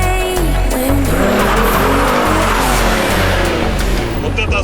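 A tuned VAZ 2107 street-race car launches hard with screeching tyres and a loud, rising engine roar, continuous and close throughout a street race start.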